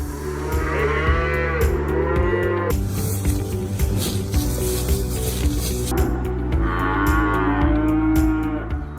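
Texas Longhorn cattle on a ranch mooing loudly and close, with two long drawn-out bellows separated by a stretch of steady rustling and shuffling noise.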